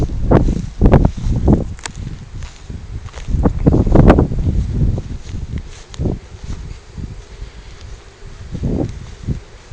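Gusty wind buffets outdoors in irregular loud bursts that rise and fade over several seconds, with quieter rustling between the gusts and no talk.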